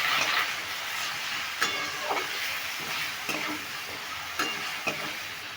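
Turmeric and salt are stirred into a banana flower curry in a pan, with scattered scraping knocks from the utensil over a soft, steady sizzle and no talking.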